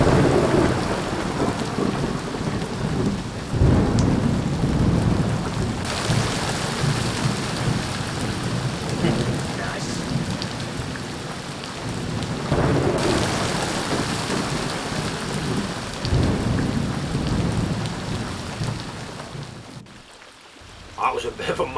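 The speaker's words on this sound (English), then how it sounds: "That was a bit of a mad storm, lots of thunder, lots of lightning" Heavy rain batters a quarry lake during a thunderstorm, with rolling thunder rumbling through a steady, dense downpour that continues for the whole stretch, loud and close, easing briefly near the end.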